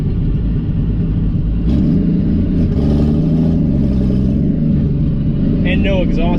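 Pontiac Ventura engine with no exhaust system, running loud and rough with a heavy rumbling drone and rising revs, heard close with someone talking over it.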